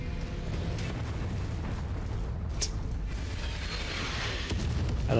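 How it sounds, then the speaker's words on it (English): Artillery in Mechwarrior 5: Mercenaries thuds and booms against a constant low battlefield rumble, with a few sharper impacts rising above the steady din. "Everybody loves artillery."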